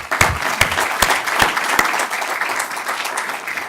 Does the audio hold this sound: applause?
yes